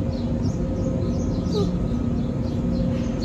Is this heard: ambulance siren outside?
no